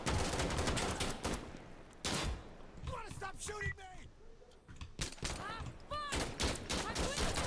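Gunfire in the Insurgency: Sandstorm co-op game, loud bursts and rapid volleys of shots scattered through the span, with voices talking between and over the firing.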